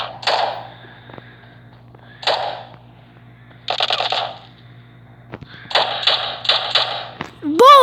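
Gunfire in the video game PUBG cracks out in sharp, spaced shots, single reports early on and then a quick cluster of three near the end, each loud and close over a faint low hum.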